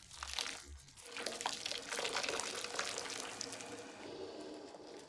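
Hot water poured over a piece of wood to soften it for umage hot-water bending in a carpenter's workshop, a splashing, crackling pour that runs on steadily with no voices.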